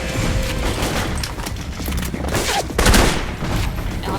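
Sustained gunfire from the video game Alpha Protocol, a loud, dense fusillade of rapid shots and booms with no pause across the whole stretch.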